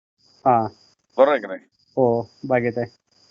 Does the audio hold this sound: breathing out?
no